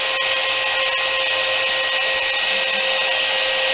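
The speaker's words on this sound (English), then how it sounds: "I'll stand back from the machine, it's cutting the centre square first" A Sainsmart CNC 4040 Pro router with a Rotozip spindle running at 20,000 RPM cuts a centre square, a loud, steady high-pitched whine with constant grinding noise and no talk.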